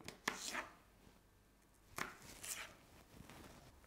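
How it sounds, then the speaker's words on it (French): A knife cuts celery into strips on a cutting board, giving two quick sets of crisp, close chops separated by a pause, soft and alone with no voices. "On va venir couper des bandes."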